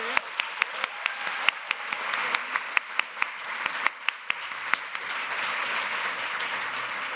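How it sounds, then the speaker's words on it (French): An audience applauds throughout at a national academic speaking competition final, with a few sharp, loud claps standing out close by in an irregular rhythm over the steady wash of clapping. "On peut encore vous applaudir."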